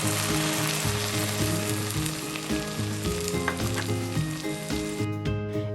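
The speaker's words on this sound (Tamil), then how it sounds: "வெங்காயம் கொஞ்சம் லைட் ப்ரௌனாக ஆகிற வரைக்கும் வதக்குங்க." Onions sautéing in a pan for restaurant-style Dragon Cauliflower, giving a steady, loud, close sizzle and frying hiss that runs unbroken throughout, with no talking.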